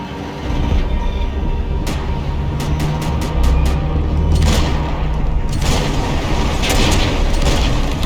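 Gunfire in the Max Payne 3 video game rings out as a string of loud, sharp shots over a heavy rumbling background, with several rapid bursts in the middle and more shots toward the end.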